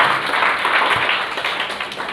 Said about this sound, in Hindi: ताली बजाओ गुड़िया के लिए